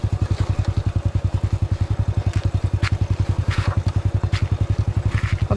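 A Honda 100 motorcycle on a steep dirt trail in Bulacan, its single-cylinder engine thumping in a fast, even, loud putter close by, with faint rattles and clatter over the top.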